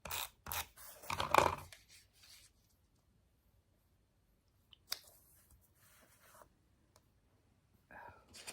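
Scissors snip through paper pieces during a scrapbooking craft session, a short burst of cutting crunches near the start followed by a few faint isolated snips and rustles.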